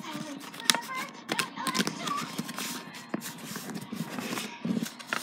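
Paper being creased and folded into an origami boat, close by: soft crackling rustles and brief crisp snaps in an uneven rhythm, with quiet handling noise throughout.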